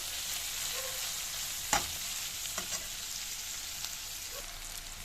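Ivy gourd stuffing frying in a pan, a steady close sizzle with a few sharp stirring scrapes and clicks, no voices.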